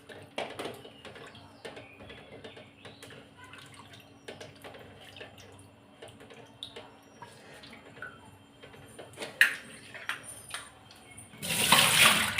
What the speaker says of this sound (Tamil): இப்போ இது மட்டும் லைட்டாக மறுபடியும் வாஷ் பண்ணிட்டு எடுத்துகிட்டு வரேன்.